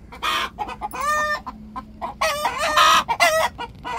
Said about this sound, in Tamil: எங்க வீட்டு கோழிய பிள்ளை வெறும் கத்திருங்க